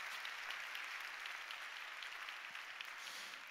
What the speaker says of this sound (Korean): 우리 박수로 한번 크게 격려하겠습니다